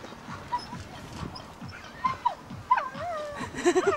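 At a dog agility competition, a dog whines and yelps in high, wavering cries, with steady rhythmic thuds like running paws in the background.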